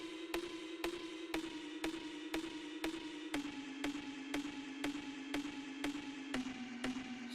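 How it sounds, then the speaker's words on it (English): A quirky synth pluck layered in a pop production, repeating in a steady even rhythm of short bright hits over a sustained tonal bed, moderately quiet with no voices. "we also have this, which is like a weird pluck thing"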